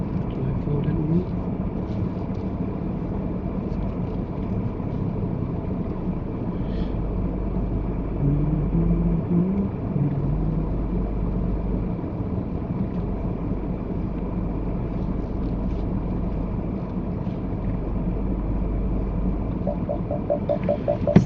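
A car creeping forward during a driving test, giving a steady, low engine rumble heard from inside the cabin throughout, with occasional voices in the car.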